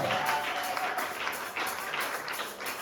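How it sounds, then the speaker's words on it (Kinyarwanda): Scattered clapping from a church congregation during a sermon, irregular bursts of applause with a voice faintly underneath. "Acclamez pour le Seigneur."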